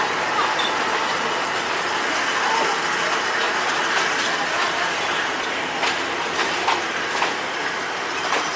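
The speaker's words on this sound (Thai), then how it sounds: "สองขบวนครับมาสับหลีกกันอยู่ เทพาครับ" Two trains pass each other at Thepha railway station in Thailand, a sustained loud rumble of rolling wagons with clicking wheels and occasional metallic squeals, steady throughout.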